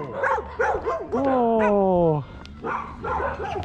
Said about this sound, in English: There's so many dogs. I don't really know why they're barking